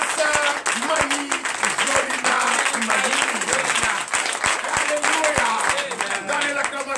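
A church congregation at a Sunday worship service in Benin claps loudly and continuously, a thick wash of hands with distinct beats, while a voice keeps talking over the applause.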